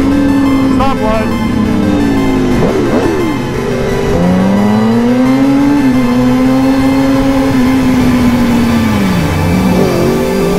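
An 1100cc stock-geared stunt motorcycle revs and rides continuously at close range, its engine note rising and falling through gear changes, with people talking over it throughout.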